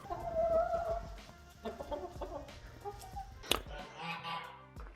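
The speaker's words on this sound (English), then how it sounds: "Go, get out of here, chickens." Chickens clucking inside a shed workshop, several close, irregular clucks and squawks with one sharp outburst midway, and softer clucking trailing off at the end.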